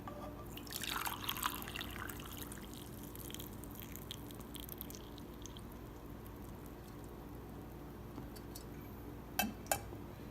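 Tea trickles and splashes through a strainer into a cup, a soft pour early on that fades to faint drips, with a couple of light clinks near the end.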